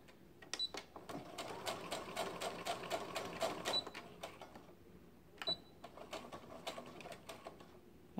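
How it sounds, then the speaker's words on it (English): A sewing machine stitches down skirt pockets in quick rapid bursts of needle clatter, pausing briefly between runs, fairly quiet and close with no voices. "you're going to sew down about an inch or so"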